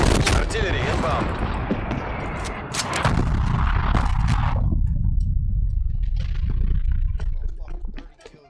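An artillery strike lands in the Call of Duty Cold War video game, loud booming blasts and rolling rumble with crackling gunfire, while game voice lines speak over the explosions.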